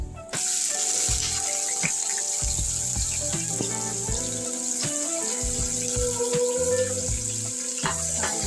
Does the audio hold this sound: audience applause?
no